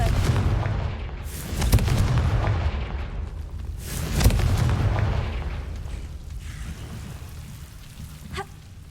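Confringo fire-blast spell in Hogwarts Legacy: two heavy booming blasts a few seconds apart, each with a crackling burst, over a rumbling, rain-like background, ending with a faint chime.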